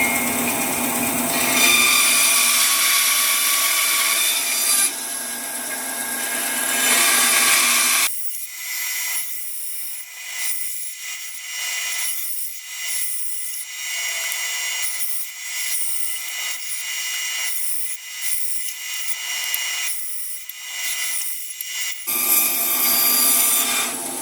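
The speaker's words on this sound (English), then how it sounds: "The bandsaw, now let's just do our jagged cut here arbitrarily." Bandsaw making a jagged freehand cut through wood, a high whine with a grinding rasp that turns into a series of short cutting bursts as the blade follows the curves, close up with no talking.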